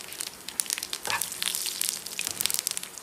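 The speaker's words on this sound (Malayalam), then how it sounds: "എണ്ണ നമ്മുടെ ചൂടായി വരുന്നുണ്ട്. അതിനകത്തോട്ട് കടുക്, ഉലുവ" Mustard seeds and fenugreek fry in hot oil, giving a dense, close crackle and sizzle with rapid popping spits throughout.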